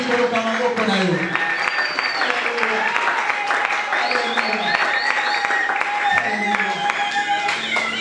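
A church congregation at a seminar applauds steadily, with sustained clapping and loud voices calling out acclamations throughout, the crowd noise dense and continuous.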